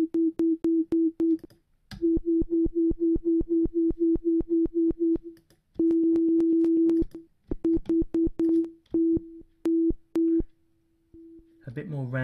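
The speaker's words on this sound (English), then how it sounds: "A bit more random with the noise effects." A synthesizer tone is chopped into rapid pulses by an LFO set to a random noise wave, so the stuttering rhythm changes irregularly with bursts, gaps and a held stretch before it fades out.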